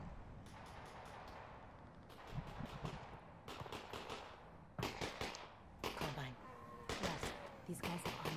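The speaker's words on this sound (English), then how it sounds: "It's a lot of gunfire." Repeated bursts of gunfire in the VR game Half-Life: Alyx, coming in clustered volleys of sharp cracks with brief gaps, moderately loud amid game ambience.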